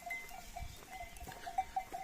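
Faint sheep flock sounds with soft bleating and a light bell-like tinkle over quiet outdoor background as the sheep head down to a stream to drink, no talking.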